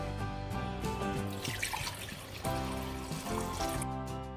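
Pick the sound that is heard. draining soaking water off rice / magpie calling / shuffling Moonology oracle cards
draining soaking water off rice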